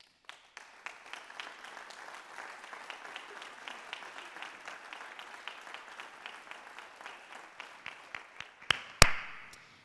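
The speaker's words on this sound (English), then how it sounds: "Please stand as we applaud you." Audience applause at a college honors convocation, a steady wash of many hands clapping for about ten seconds, moderately loud, with a couple of sharper claps near the end as it fades.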